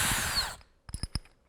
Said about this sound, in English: I'm changing the bits out,